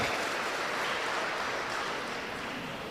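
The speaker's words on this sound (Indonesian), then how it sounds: "Tepuk tangan untuk teman-teman mahasiswa-mahasiswi sekalian." A university audience at a public lecture applauds steadily, a dense, even wash of clapping that holds at the same level for the whole stretch with no voices over it.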